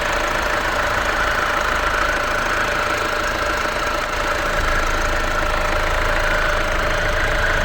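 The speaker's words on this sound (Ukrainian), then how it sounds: "класно рівно працює двигун" A 2017 Peugeot 3008 1.6 diesel engine idles steadily and evenly on a cold day, a continuous low rumble with a faint mechanical hum, close by and without talk.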